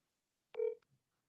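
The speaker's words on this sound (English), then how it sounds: "I'm gonna make a quick phone call right now." A single short electronic tone like a phone dialing beep as a quick call is placed, isolated and fairly clear, followed by silence.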